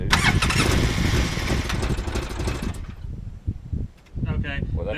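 Engine of a 2005 Polaris Ranger XP 700 that runs rough or won't start, cranking and sputtering loudly up close for several seconds before briefly cutting out, then cranking again, with people talking nearby.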